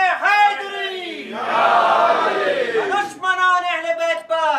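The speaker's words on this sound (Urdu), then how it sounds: "نعرے" A crowd chants religious slogans in unison at a Shia gathering. One loud sustained roar of many voices fills the middle of the clip, with a single voice calling before and after it.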